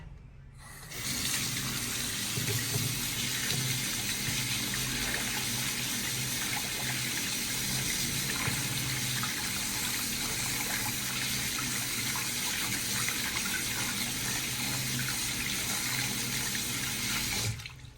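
A toilet cistern part being washed under a running tap, with a strong, steady gush of water splashing into a sink from start to finish, close and loud.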